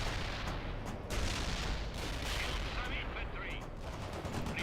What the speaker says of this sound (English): Launch the 85 missile.